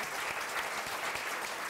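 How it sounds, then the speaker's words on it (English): Brief, steady applause from a keynote luncheon audience, an even wash of clapping heard from a distance at low volume. "just applause for Jim Doss."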